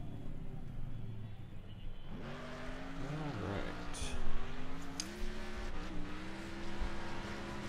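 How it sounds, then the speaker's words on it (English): Several cars rev and collide in a demolition derby stadium in Next Car Game, engines whining up and down in pitch with impact crunches and a loud mid-clip bang, while a voice talks over the action. "this is a demolition derby stadium. The goal is to be the last car standing and smash the crap out of everybody else."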